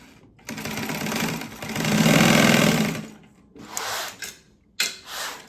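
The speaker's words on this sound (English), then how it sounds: "I'm gonna sew right on that line." Sewing machine stitching a boxed corner on a waxed canvas pouch, a run of steady motor whir that swells and fades, then several short bursts of stitching.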